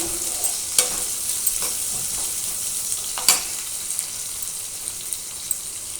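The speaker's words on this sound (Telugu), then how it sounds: "కొంచెం జింజర్ గార్లిక్ పేస్ట్ యాడ్ చేసుకొని అంతా మిక్స్ అయ్యేలాగా పచ్చివాసన పోయేంత వరకు ఫ్రై చేసుకోవాలి" Steady sizzling of shredded cabbage frying with ginger garlic paste, onion and green chili in a pan, continuous crackle with occasional stirring scrapes and small pops, close and alone.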